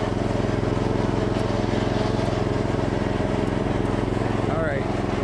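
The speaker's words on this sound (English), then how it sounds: "this is the scene you get driving along on a John Deere" A 1989 John Deere RX75 riding lawn mower drives along with a steady, loud, rhythmic engine drone, close and continuous throughout, with a person talking over it.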